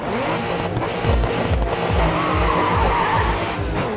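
Race car tires skid and squeal in the Grid 2 racing game, a loud continuous screech over a rumbling engine with rhythmic low thumps throughout.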